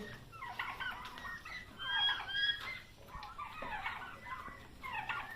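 Turkeys gobble and call repeatedly in overlapping bursts, a busy flock of about five-month-old farm turkeys raised for meat chattering close by with no one talking.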